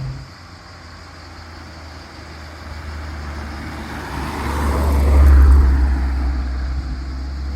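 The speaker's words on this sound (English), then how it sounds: "I'll go ahead and gear down because I'm driving through a city" An Alfa Romeo 146 engine hums from inside the car while gearing down through a small Tuscan town, a low rumble that swells to a louder peak before settling.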